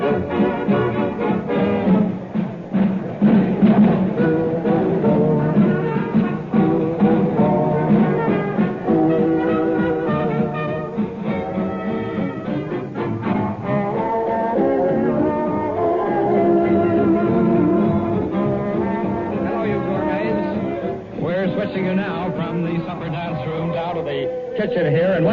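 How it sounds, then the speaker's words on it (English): Wartime London, the busy Savoy hotel kitchen at night: continuous bustle of staff calling and filling meal orders, with overlapping voices and scattered clatter throughout. "Kitchen here, and what you're hearing is not excitement because of an air raid, but just the busy orders providing people with meals there."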